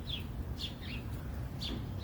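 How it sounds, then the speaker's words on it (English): A northern cardinal chirps in a garden with a few short, high, separate notes spaced roughly half a second apart, faint over a low background rumble. "See the cardinal up there? That's a beautiful bird."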